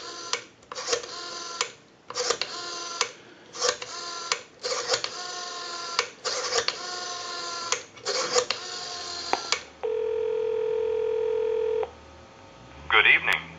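A Western Electric 302 rotary desk telephone being dialed: a string of regular tone-and-click bursts in even groups, close and fairly loud, followed by a steady sustained tone and a brief final blip.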